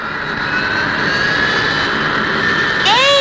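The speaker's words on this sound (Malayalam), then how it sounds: "ഹായ് വിമാനം." An airplane flying overhead along a village road, a loud steady jet engine roar that fills the whole stretch, with a brief whistling sweep near the end.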